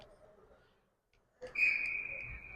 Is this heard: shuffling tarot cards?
no